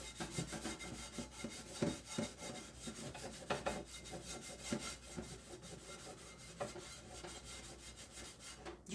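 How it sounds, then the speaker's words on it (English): A sponge with washing-up liquid scrubs a saucepan under warm water, giving repeated rough rubbing strokes in an uneven rhythm. Each stroke rasps loudly and close, with no talk over it. "we're going to give it a scrub with it being warm"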